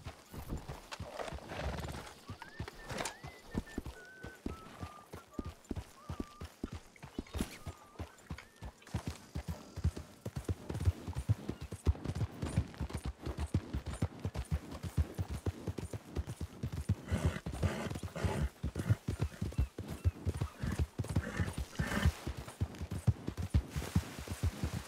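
Horses in the video game Red Dead Redemption II trot with a continuous clip-clop of hooves, and occasional whinnies break through the rhythm. The hoofbeats grow denser and louder toward the end.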